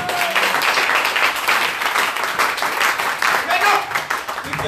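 Congregation at a Christian worship service applauding and cheering for Jesus, a dense sustained wash of clapping and crowd voices that stays loud and steady throughout.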